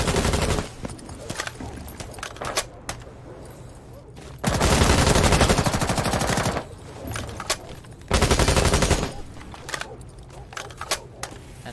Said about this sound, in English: Crush will be shooting out these broken parts to help Andrew get this wall open